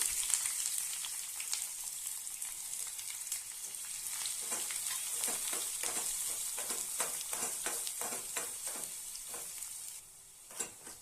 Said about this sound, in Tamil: இப்போ வெங்காயத்தை சேர்த்துடலாம்.